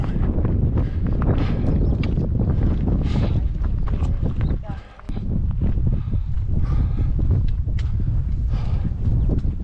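Cold wind roaring steadily across an exposed mountain ridge above Morzine during an ultra trail run, a loud, continuous buffeting rush that dips briefly midway before resuming.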